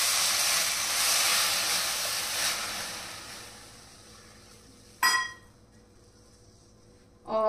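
Milk poured into hot roasted coconut powder in a pan over a low flame, a loud broad hiss that slowly fades over several seconds, followed by quieter sharp bursts of sizzle.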